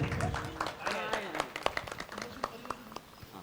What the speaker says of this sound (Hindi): जोरदार तालियों के साथ में अनुमोदना करें।